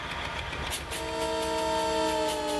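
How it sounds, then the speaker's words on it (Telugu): In an Indian train simulation game on Android, an oncoming train rumbles past with a steady low roar, then a sustained multi-tone horn joins partway through, loud and near. "అదిగోండి ఇంకో ట్రైన్ అయితే వస్తుంది ఎదురుగా"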